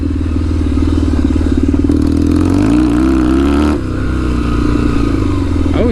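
A Kawasaki KZ750 scrambler motorcycle on its first ride, the engine loud and close with a steady throbbing drone, rising and falling as the throttle shifts and briefly easing off midway before pulling again.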